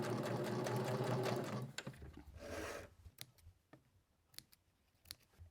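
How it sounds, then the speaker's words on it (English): A sewing machine back stitching fabric runs in a close steady buzzing whir, then stops abruptly, followed by a few soft clicks and handling taps as the fabric is moved, with no talking. "And then I'm going to cross this stitching just a little bit and back stitch to lock it all in place."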